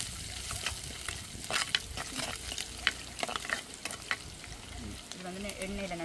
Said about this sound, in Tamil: கருவேப்பிள்ளை, வெங்காயம் போட்டு நல்லா தாளிச்சு விடுவோம்.